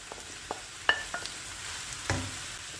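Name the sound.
fatty minced meat frying with butter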